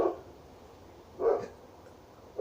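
A dog next door barks a few times in the distance, soft and muffled, with quiet gaps between the barks.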